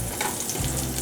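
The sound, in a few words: taro root (arbi) shallow frying in avocado oil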